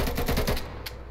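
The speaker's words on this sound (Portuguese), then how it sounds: "E aí nosso rifle fica com um tiro igual de uma shotgun, ó." A modded rifle fires in a rapid burst of about six shotgun-like shots in the Hollow Knight game, loud and close, followed by a fading tail and one softer impact.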